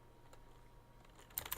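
Soft keystrokes on a computer keyboard during a coding session, a quiet scattered patter that ends in a couple of sharper, louder clicks, with no talking.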